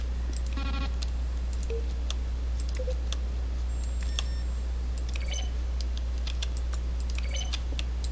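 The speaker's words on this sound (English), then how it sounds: "A selection of the sounds used throughout the game when buttons are pressed." Button-press sounds from the video game The Stanley Parable, each a keyboard stroke blended with a synthesized tone, heard as a series of separate clicks and blips over a constant low hum.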